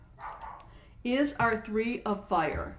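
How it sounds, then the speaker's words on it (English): Several dogs bark in a burst of loud, close yips and woofs, following quieter talk at the start. "I'm sorry if you hear my dogs barking."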